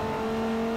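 Front-wheel-drive Dodge Viper Comp Coupe race car tuned to 1031 HP in Forza Motorsport 4, its engine holding a steady, loud high-revving drone with strong tonal whine, alone without voices.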